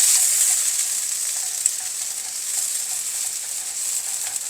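Garlic, green chilli, spring onion and celery stir-fry in sesame oil for egg fried rice, giving a constant bright, close sizzle with faint stirring scrapes and no voices.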